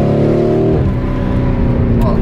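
A tuned Lamborghini Urus with ceramic brakes drives loud and close, its engine note dropping as it slows under braking, with someone talking over the engine.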